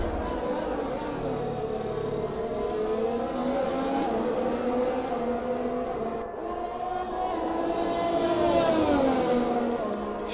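Formula 1 cars, a Ferrari battling an Aston Martin at the Bahrain Grand Prix, roar steadily with rising and falling engine pitch, loud and continuous, with commentary mixed underneath.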